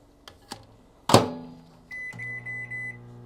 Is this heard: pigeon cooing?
no